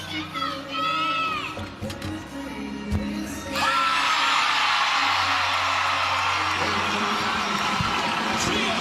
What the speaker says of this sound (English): I'm just letting the crowd go wild for Kailin Chio.